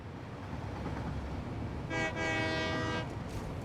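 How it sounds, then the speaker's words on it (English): A train pulls in during a factory-building video game, its rumbling run overlaid around the middle by a loud, sustained horn-like toot that sounds for about a second and then fades back into the steady rolling noise. "here's a train coming in"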